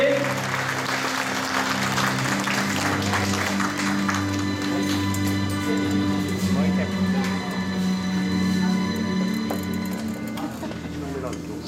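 Audience applause welcoming the mayor at a Longtan district sustainable development forum and new year tea party, dense and sustained, with steady low tones running beneath and a voice speaking over it.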